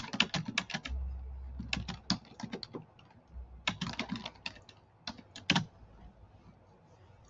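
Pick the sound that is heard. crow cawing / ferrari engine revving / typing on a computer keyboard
typing on a computer keyboard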